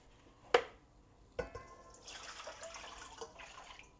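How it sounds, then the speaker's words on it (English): Vinegar poured into a saucepan for a pickling syrup with celery seed and turmeric: a soft splash that builds into a quiet, steady pour after a couple of faint clinks, close by with no talking. "we will put 2 cups of vinegar"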